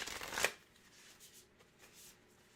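A deck of cards shuffled once in a brief riffle burst at the start, close and crisp, then fading to near silence with only faint soft handling.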